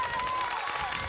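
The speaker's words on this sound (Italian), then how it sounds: "Ascolta, chiederei un applauso." Audience applause with some cheering at an indoor children's mini-olympics, just before the high jump contest, a steady dense wash of clapping that fills the whole moment.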